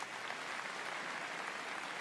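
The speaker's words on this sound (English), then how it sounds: "Please give her a big round of applause." Steady, dense applause from an audience at a dog show demonstration, continuous and fairly even throughout with no talking over it.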